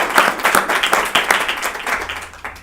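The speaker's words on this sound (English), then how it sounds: "So I think we can applaud." Audience applause for the speakers at the close of an afternoon science-and-law panel session: dense, steady clapping from many hands, fairly close and loud, continuing throughout with no talk over it.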